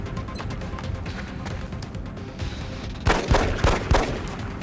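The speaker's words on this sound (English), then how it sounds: "So we can take a couple pistol shots here." A few sharp pistol shots in the strategy game Long War, several loud cracks clustered near the end over a busy game background.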